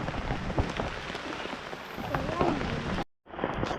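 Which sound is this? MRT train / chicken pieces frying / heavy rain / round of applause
heavy rain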